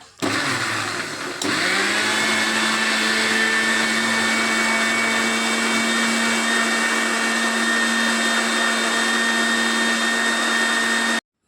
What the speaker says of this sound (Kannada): ಈಗ ಮಿಕ್ಸಿ ಮಾಡಿ ಆಯ್ತಲ್ಲ